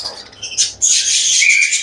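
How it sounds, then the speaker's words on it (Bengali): Australian doves in a colony cage giving short, close, bright chirping calls, a few quick notes followed by a sustained high call, with no talk. "আর এখানে তো আমার অনেকগুলো ঘুঘু পাখি একসাথে রাখা, অস্ট্রেলিয়ান ঘুঘু পাখি।"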